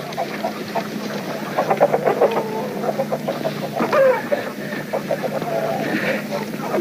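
Chickens clucking in a group, repeated close clucks and squawks in an irregular rhythm, with faint background talk.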